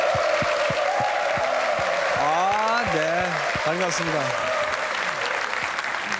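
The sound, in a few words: studio audience applause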